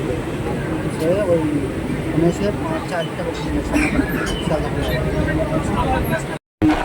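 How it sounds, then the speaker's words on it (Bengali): Adjacent Sealdah–Lalgola train passing beside a local train near Taherpur: a continuous loud rumble and rattle of wheels and carriages, with people talking over it and a brief dropout near the end. "এই পাশের ট্রেনটা যাচ্ছে শিয়ালদা লালগোলা।"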